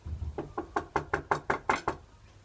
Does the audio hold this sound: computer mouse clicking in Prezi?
no